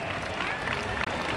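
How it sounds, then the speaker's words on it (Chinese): A crowd applauds coach Ye at a Wei Chuan Dragons training opening ceremony on a baseball field, with steady, dense clapping and a brief dip near the end. "再次的掌声给叶总"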